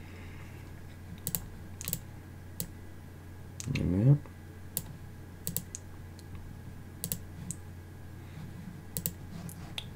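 Sparse clicks of typing on a computer keyboard, quiet and close, with a brief spoken remark partway through.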